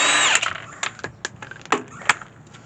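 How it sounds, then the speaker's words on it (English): A power tool works off the lug nuts on a Ford Mustang wheel during a front brake pad job, with one sustained whir followed by several short, sharp bursts spaced out at close range. "So we're going to throw that down right there and remove the lug nuts."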